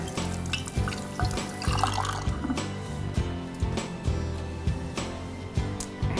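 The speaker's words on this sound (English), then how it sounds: "Rinse my hands off." Tap water runs steadily into a kitchen sink while hands are rinsed under it, a close, continuous splashing with small irregular changes as the hands move through the stream.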